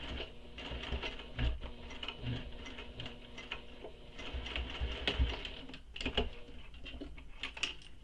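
A sewing machine top stitches a squoval bag, a quiet uneven run of rapid mechanical ticking and whirring with brief louder bursts, close by and with no one speaking.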